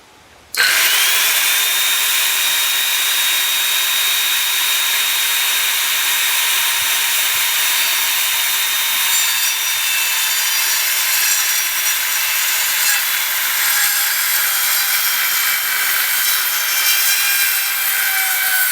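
Continuous hand saw cutting through a wooden decking board for a Japanese tea house boardwalk, a steady loud rasping stroke rhythm running almost the whole time, close up and alone with no voices.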